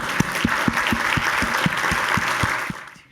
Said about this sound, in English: let's give Sarah a round of applause